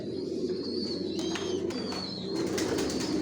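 Racer pigeons in a loft, including a tiger grizzle hen sitting on eggs, give soft throaty coos repeated over a steady background hum at close range.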